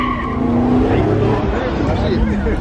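A muscle car spins its wheels at a car meet, a loud continuous engine roar with tire squeal, and people talk over the noise.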